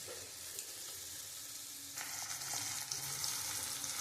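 Tomatoes go into a pan of fried onions for an egg curry, and the quiet steady sizzle swells into a louder, busier frying hiss halfway through, with no talk.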